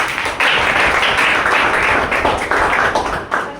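An audience at a planning seminar in Panipat, India breaks into loud, dense applause for a woman presenter, a steady wash of claps lasting the full few seconds.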